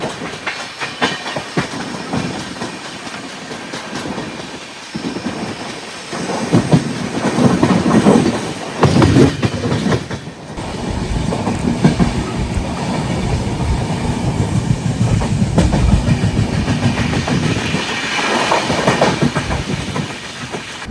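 The Kerala Sampark Kranti Express runs on the rails near Mararikulam, heard from on board as a loud, steady clickety-clack with a rumbling roar that swells after a quieter start and then holds for the rest of the run, with no voices.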